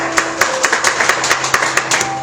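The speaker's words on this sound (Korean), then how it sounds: "우리 하나님께 영광의 박수 올립니다" A church congregation claps together after a prayer during a Sunday service, a steady roomful of hand claps with regular sharper accents, moderately loud and without speech.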